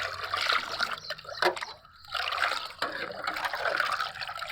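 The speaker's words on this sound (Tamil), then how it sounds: "இதை வந்து இவ்வளோ தண்ணியில் ஊற்றி கலந்துக்குங்க." Liquid trickles and pours into water as spent tea and coffee grounds are poured in and mixed, a quiet continuous stream with brief splashy breaks.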